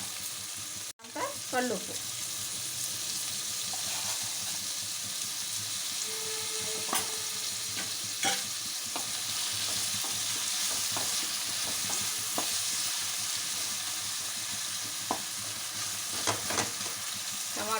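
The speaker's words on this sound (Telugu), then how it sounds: "ఇవన్నీ కలిపి ఆయిల్లో ఫ్రై చేసుకోవాలి" Mixed vegetables with salt fry in hot oil for a mixed vegetable curry, a soft continuous sizzle with occasional stirring clinks and scrapes; a voice speaks briefly near the start.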